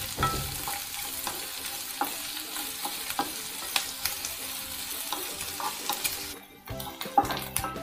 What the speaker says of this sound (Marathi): यामध्ये कांदा घालूया, आलं आणि लसूण घालूया। या तेलावरती कांदा छान आता भाजून घेऊया।